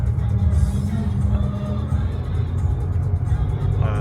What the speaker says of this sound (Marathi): गाड्या वर्दळ आहे.